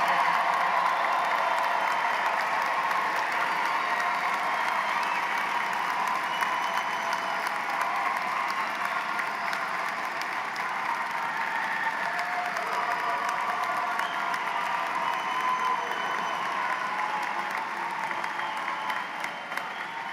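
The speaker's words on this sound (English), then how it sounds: "Big round of applause for the class of 2023." A large graduation ceremony crowd applauds the graduating class in a steady, sustained wash of clapping that holds at full strength for the whole stretch, with faint cheering mixed in.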